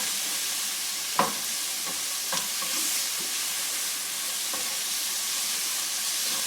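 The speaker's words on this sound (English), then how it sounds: "Give it a nice stir." Chicken for buffalo chicken pizza sizzling in a pan, a steady hiss broken by a few sharp stirring knocks, no voices.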